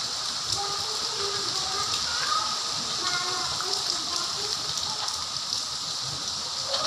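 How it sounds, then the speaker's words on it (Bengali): Heavy rain falling during a storm outside a home, a constant dense hiss of downpour with no letup, and a person talking faintly beneath it. "প্রচুর বৃষ্টি হচ্ছে"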